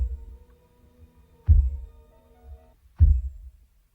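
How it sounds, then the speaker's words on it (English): A deep heartbeat-like thump sounds in a song, with three low pulses at even intervals over a faint sustained hum. "It's like a heartbeat."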